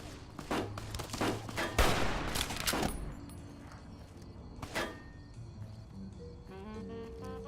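In Fallout New Vegas, enemies fire bursts of gunfire, several sharp rapid volleys in the first three seconds, then a lone shot and scattered quieter clicks and steps.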